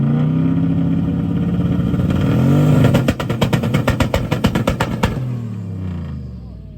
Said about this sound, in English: It's two-stepping like crazy, shooting flames.